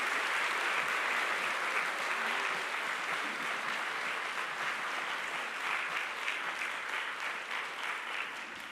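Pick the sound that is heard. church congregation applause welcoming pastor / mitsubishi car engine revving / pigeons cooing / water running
church congregation applause welcoming pastor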